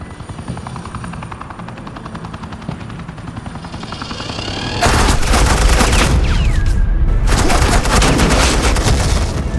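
Heavy suppressing gunfire erupts in Batman: The Enemy Within, a loud, rapid continuous burst of shots over the droning thrum of a helicopter after a quieter build-up.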